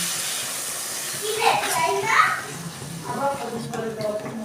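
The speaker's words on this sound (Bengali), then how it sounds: "এবার আমি অল্প একটু জল দিয়ে দিচ্ছি" Water poured into a hot cooking pan with ground coriander and Kashmiri chilli powder, while cooking kohlrabi with rohu fish, hisses and sizzles in short bursts, close, with a voice speaking over it.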